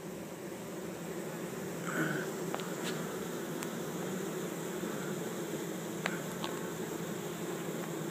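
Close, steady hum of a honey bee swarm during a capture in Chico, California, the dense buzz holding throughout with a few sharp individual wingbeats passing near.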